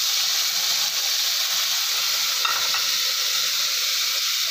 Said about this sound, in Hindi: उसमें 1 चम्मच ऑयल डाल दिया है, और ये पनीर है उसको हम फ्राई कर लेंगे